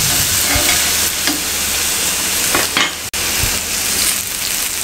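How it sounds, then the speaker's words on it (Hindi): Beef steak searing in a lightly oiled pan over high heat, a loud continuous close sizzle with a few brief scraping movements and a sudden momentary break partway through. "अब ये देखें ये यहाँ पे बीफ तैयार हो रहा है।"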